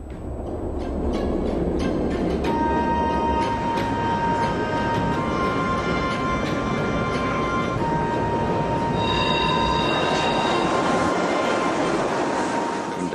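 A metro train rolls slowly on rails with a steady loud rumble, wheel clatter and drawn-out high squeals, heard from close by inside or beside the carriage.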